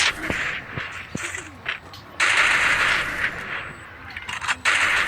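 SCAR rifle fire in a shooter game, a few sharp isolated shots followed by bursts of rapid fire, moderately loud over a noisy game background with faint talking.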